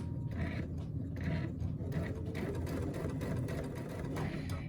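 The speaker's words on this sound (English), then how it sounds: "I'll go ahead and I'll start stitching" A dual feed sewing machine stitches fabric in a steady, continuous mechanical whir with a low rhythmic chatter, holding an even level throughout with no voices.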